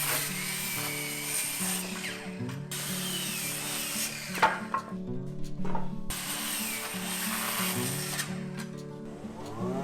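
A power saw cutting hinoki cypress stair step boards into short lengths, with repeated loud cutting passes separated by brief pauses and knocks of wood being handled.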